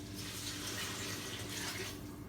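Water pours steadily into an Instant Pot, a soft continuous splashing rush lasting a couple of seconds, fairly quiet and with no talking.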